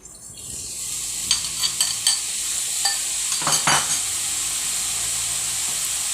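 Soy sauce poured into a pan where milkfish is frying, cooked Bisaya style, with a steady close hiss and sizzle and a few brief clinks and stirring sounds, no talk.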